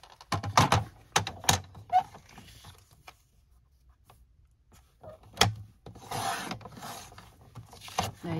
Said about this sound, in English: Just make four scores of each half an inch.